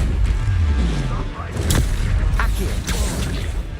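A Stupefy stunning spell cast in the Hogwarts Legacy video game, a loud magical burst with booming impacts and crashing combat effects layered over a low rumble, under a spoken incantation.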